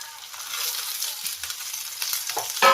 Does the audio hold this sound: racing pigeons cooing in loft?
no